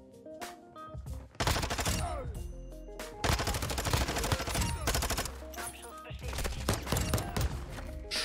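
Rapid automatic gunfire from a Vaznev-9K submachine gun in Modern Warfare 2, with several sustained bursts of loud shots interrupted by short pauses, set against game music and effects.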